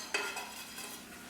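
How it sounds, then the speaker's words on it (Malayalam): Spoon stirring Kashmiri chili powder into a mango pickle mixture in oil, a short soft scraping swirl with a faint sizzle, heard alone without any voices. "നന്നായിട്ട് നമുക്കൊന്ന് മിക്സ് ചെയ്ത് കൊടുക്കാം."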